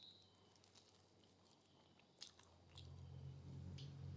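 A mouthful of homemade chicken roll being bitten into and chewed up close, with a couple of sharp crunchy bites followed by louder, steady wet chewing, and no talking.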